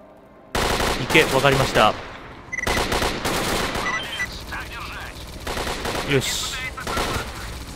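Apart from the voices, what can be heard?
machine gun fire in video game S.T.A.L.K.E.R. Clear Sky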